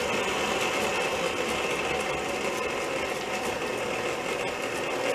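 An electric mixer beats a soft dough made with egg yolks, giving a steady mechanical whir at low volume that continues without pause.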